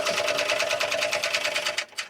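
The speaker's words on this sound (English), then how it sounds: "I'm going to back stitch in the beginning and the end of the seam" A sewing machine stitches a seam on a triple-zip crossbody bag with back stitching, a steady fast close-up whir of needle strokes that runs for about two seconds before stopping briefly.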